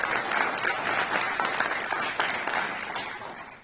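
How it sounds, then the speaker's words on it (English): An audience at a town hall meeting gives a steady round of applause for a partner organization, with many hands clapping densely and filling the room before the sound gradually thins out. "Can we clap for Gathering for Women?"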